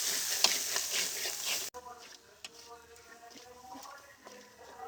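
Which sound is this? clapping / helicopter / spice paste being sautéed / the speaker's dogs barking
spice paste being sautéed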